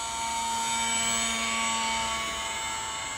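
A small UMX Gee Bee R-2 radio-controlled plane flies steadily, its tiny electric motor giving a continuous high whine with a faint tonal hum that stays even and fairly loud throughout, no voices present.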